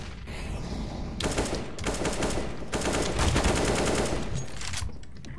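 Automatic gunfire in the video game CS:GO, sustained bursts of rapid shots crackling continuously for several seconds, loud and dense with overlapping shots and only short gaps between volleys.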